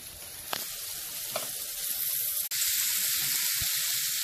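Beef chunks for stew sear and brown in a hot pan, giving a steady, loud sizzle with scattered pops and crackles and one brief clatter of stirring partway through; nobody speaks.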